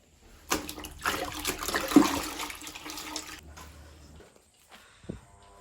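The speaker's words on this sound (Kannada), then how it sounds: "ಈಗ ನೀರು ಸೋರ್ಲತ್ತವ ನೋಡ್ರಿ, ಕಾಣ್ತಿರ್ಬೇಕು ನಿಮಗೆ." Water leaking and running out of an iPhone, a steady splashing trickle that swells and fades over several seconds, then a brief splash near the end.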